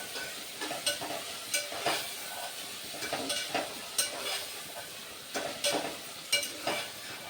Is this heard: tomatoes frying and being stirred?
yes